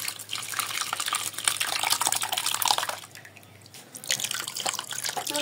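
Whey and liquid from curdled milk (chhana) streaming and dripping through a thin cotton cloth into a sink, a steady splashing trickle that eases briefly midway, with no talk.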